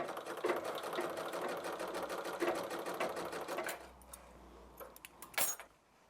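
A sewing machine stitching wool slippers inside out, its fast rhythmic needle chatter running steadily for several seconds, then stopping with a few handling clicks and knocks.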